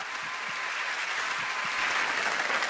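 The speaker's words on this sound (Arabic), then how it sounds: "نسقف لكاميليا ونشجعها تشجيع جامد جدا" Audience applause for contestant Camelia on a singing competition show, a steady dense clapping that swells slightly toward the end, continuous throughout with no voices on top.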